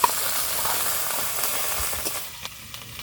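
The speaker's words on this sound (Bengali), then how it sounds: "এবার আদা বাটা আর জিরে বাটা দেবো।" Ginger and cumin paste frying with golden onion and garlic paste in a pan for a broiler chicken curry, a soft steady sizzle with a few faint clicks and no voices.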